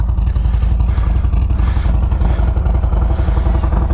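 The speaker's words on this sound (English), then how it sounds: "It's definitely changed the sound of the bike when it's riding." A 2023 Harley-Davidson Road Glide Special with a Screaming Eagle Stage 2 engine, loud and close while riding, a deep, steady, throbbing V-twin rumble with a fast pulsing beat throughout.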